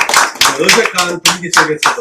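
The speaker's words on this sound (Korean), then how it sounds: "일단 박수!" A church congregation claps in unison after an unaccompanied hymn, with about seven loud, evenly spaced group claps sounding close, while a voice speaks over them.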